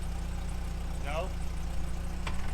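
1999 Mercedes-Benz C230 Kompressor engine idling steadily at close range while the car sits stuck, a low even rumble with regular pulsing, briefly overlaid by a voice.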